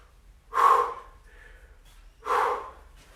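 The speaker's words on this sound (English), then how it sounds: "2 or 3 big breaths." Two heavy, forceful breaths after a cardio workout, each a loud whooshing exhale separated by a short pause, close up with no talking.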